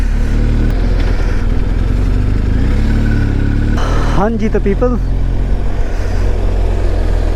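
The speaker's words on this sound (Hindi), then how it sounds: "चंपावत में बहुत ट्रैफिक है।" Road traffic while passing through Champawat in the mountains, a constant loud engine drone with a motorcycle or car revving nearby, while someone speaks briefly over the noise.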